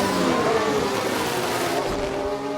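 An Alpine race car in F1 Manager 22 roars loudly and steadily with a high engine whine as it loses control, the pitch sliding downward and the noise easing slightly near the end.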